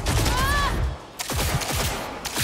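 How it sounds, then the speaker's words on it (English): Rapid gunfire rattles in a burst of shots in the Cyberpunk 2077 video game, close and loud, with a short pause before more firing and a brief electronic tone. "don't be shooting at me"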